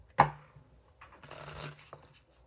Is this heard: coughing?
no